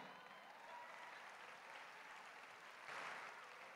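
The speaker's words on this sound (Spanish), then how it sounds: "den un aplauso." Steady applause from a conference audience, moderately distant and even throughout, swelling slightly louder near the end.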